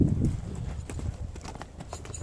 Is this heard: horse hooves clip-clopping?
yes